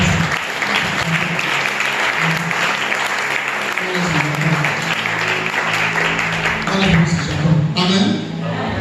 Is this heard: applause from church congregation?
yes